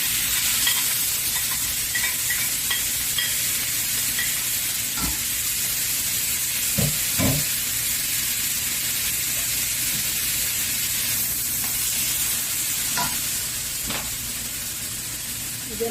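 Onion and tomato sautéing in a pan for chicken kinamatisang, making a steady close sizzle and hiss throughout, with occasional soft scrapes and knocks from stirring and no talk.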